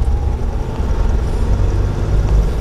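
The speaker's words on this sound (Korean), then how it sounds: "엑셀 쭉 밟고. 속도 올리고." A car's engine pulls hard in second gear during a driving lesson, a steady low rumble filling the cabin, loud and close with no talk over it.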